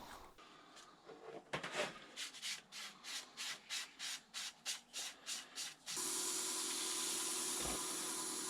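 Yorkshire Grit abrasive is worked onto a wooden goblet on a lathe. Short rhythmic rubbing strokes come about a dozen times, close and fairly soft, and then give way to a steady rushing hiss.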